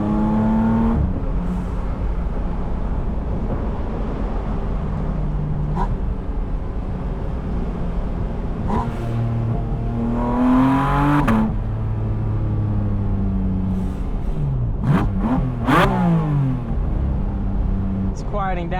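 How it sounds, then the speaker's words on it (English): Porsche 718 Spyder RS engine revving with rising and falling sweeps and sharp quick-shifting PDK bursts, loud and close, under ongoing talk. "This car sounds so good."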